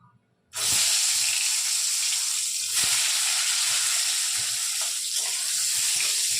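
Loud, steady sizzling of pointed gourd dropped into hot oil, starting abruptly and continuing as a dense crackling hiss throughout.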